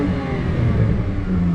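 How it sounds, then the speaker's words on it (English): A BMW 128i E82 with a muffler delete revving hard, a loud, raw, continuous engine roar close by, with no talk. "I got a muffler delete on this John, and I might give y'all some rev."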